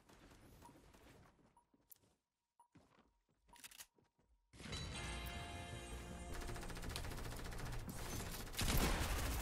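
Machine gun fire in Fortnite starts as scattered sharp shots with gaps between them, then becomes a dense, continuous burst of automatic fire that grows louder toward the end. No one speaks.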